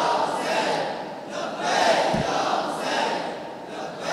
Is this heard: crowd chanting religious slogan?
yes